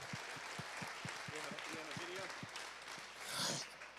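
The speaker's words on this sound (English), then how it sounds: "Please give a big round of applause for everybody who participated in the auction" A gala audience applauds auction participants with a steady wash of clapping that lasts throughout, swelling slightly near the end. Low rhythmic thumps and a voice run underneath.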